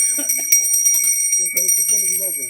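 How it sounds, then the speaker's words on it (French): A hand bell rings with a sustained, high metallic shimmer that carries on throughout, while people talk over it outdoors. "Faut pas vous perdre, hein, donc j'ai amené la cloche"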